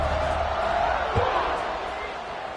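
A stadium crowd roars steadily before the kickoff of a football game, a dense, continuous wash of cheering with a commentator talking over it.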